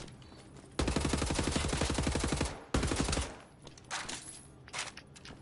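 Rapid automatic gunfire in Wolfenstein: The New Order on PS4: a long, loud burst of fast repeated shots, a brief gap, then a shorter burst, trailing off into scattered lighter impacts.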